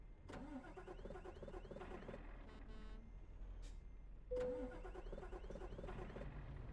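A truck engine in Euro Truck Simulator 2 cranks and fails to catch, with two separate starter bursts a few seconds apart, each a rapid churning whir that cuts off, over a steady low hum.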